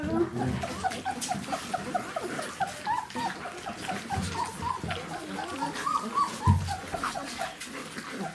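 Twenty-day-old puppies whimper and yip during a messy feeding session, many small high cries overlapping close by, with someone speaking French over them and soft clatter in the background.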